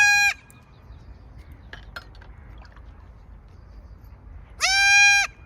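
A young goat kid bleats outdoors, giving two loud, nasal cries: one at the very start and one near the end. Between them the background is quiet and faintly noisy.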